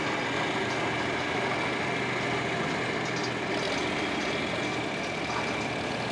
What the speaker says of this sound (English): Right behind it is another very nice John Deere 4520 with the canopy